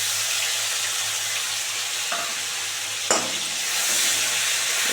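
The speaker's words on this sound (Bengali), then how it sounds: "এবারে পেঁয়াজ বাটাটা দিয়ে দিচ্ছি" Onion paste fries in a hot pan for an egg malai curry, giving a steady, loud sizzle with a brief crackle partway through.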